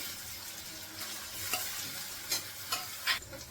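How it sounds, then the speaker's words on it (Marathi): Ground masala paste with onion and tomato is sautéed in a pan, a spoon scraping and turning it in a few distinct strokes over a low steady sizzle, with no voices. "हे दोन्ही पण मी आता छान असं परतून घेते"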